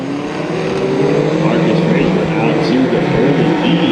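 Dirt track race cars at Santa Maria Speedway rumble and rev as a heat race gets underway, several engines overlapping in a loud, wavering roar, with an announcer talking over them.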